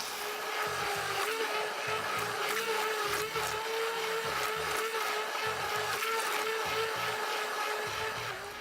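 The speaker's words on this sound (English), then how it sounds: "You can blend it with your immersion blender, or you can use a regular blender." A blender whirs steadily at close range blending a barbecue sauce, its motor hum pulsing and knocking irregularly as the contents churn, with no talking.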